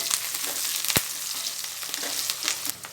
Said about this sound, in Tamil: கருவேப்பில பொறிஞ்சு கொஞ்சம் சத்தம் அடங்கிடுச்சு